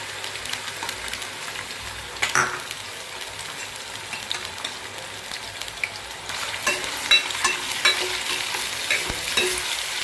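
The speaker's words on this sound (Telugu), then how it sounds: "ఆయిల్ వేడెక్కింది పచ్చిరలు అయితే వేసుకుందాము" Raw prawns dropped into hot oil for a gongura prawn curry, sending up a continuous bright sizzle with a sharp surge early on and a louder, busier spattering through the second half, punctuated by stirring clinks.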